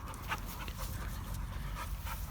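Several dogs sniff and pant close around a nervous rescue dog, a continuous run of quick, breathy huffs with no voices over them.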